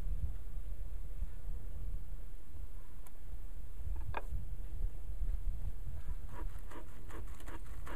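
Honey bees swarming around an opened top bar hive during an early winter inspection, a steady close buzzing hum with scattered light taps and clicks from handling the bars.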